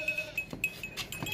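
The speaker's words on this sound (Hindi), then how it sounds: "गंजा है, गंजा बगैर सींगों के" A fat, healthy, broad-chested hornless male goat gives a few faint, short bleats, with a thin, high ringing tone in the background.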